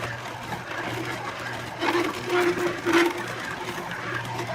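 A Tribest Slowstar slow juicer grinds away while juicing, a steady low motor hum with a faint whine and crunching, squeaky bursts midway, moderately quiet throughout.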